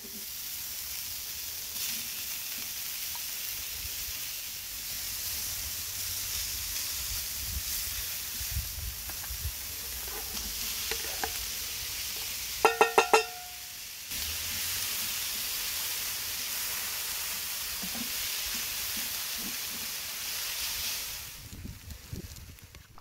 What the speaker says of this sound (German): in der Mitte brate ich dann die Zwiebeln und den Speck an